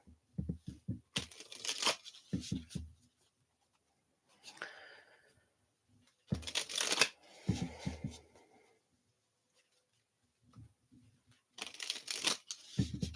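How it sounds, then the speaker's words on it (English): Several bursts of tarot card shuffling and riffling on a lap, crisp papery flutters separated by quiet pauses, close by. "just take 3 shuffles on my lap"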